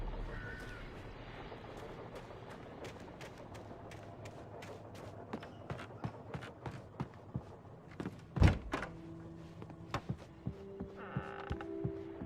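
An old door in the Alan Wake game creaks slowly at a dark lakeside cabin, a drawn-out groan over a low hum, followed by a sharp thunk and a string of faint knocks and clicks.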